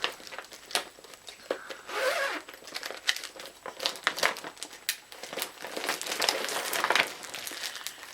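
A plastic baggie crinkles and rustles as it is handled, close and fairly quiet, in irregular bursts of crackling with short pauses between.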